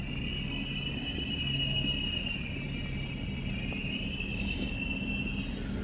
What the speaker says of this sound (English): here is our train.